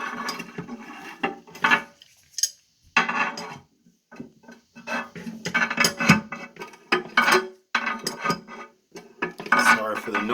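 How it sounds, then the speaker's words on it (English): Metal clinks and scrapes come in irregular bursts while a Niagara N-2216T flapperless toilet handle is screwed in, close and fairly loud, with pauses between. "So I'm going to finish screwing my other side in."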